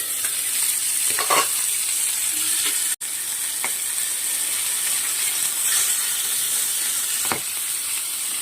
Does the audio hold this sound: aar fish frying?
yes